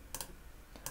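Two pairs of quick mouse clicks on a computer in a Logic Pro X session, one double click near the start and another near the end, close and crisp with quiet between.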